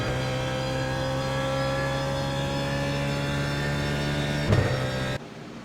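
A BMW Z4 GT3 race car in iRacing accelerates around Interlagos, its engine a steady, loud, buzzing drone with strong tonal harmonics, held throughout before it cuts abruptly to a quieter hum near the end.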